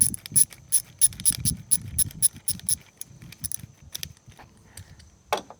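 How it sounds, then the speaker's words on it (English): A hose clamp on a diesel heater hose is tightened with a rapid run of sharp metallic ratcheting clicks, close and crisp, then slower scattered clicks and a handling rattle. "take your other hose clamp, and tighten that on down"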